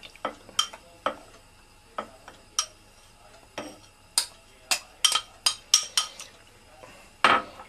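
A spoon stirs cornstarch into milk in a glass for crema catalana, giving about a dozen sharp, light clinks close by. They come at an irregular, quickening pace, with no voices.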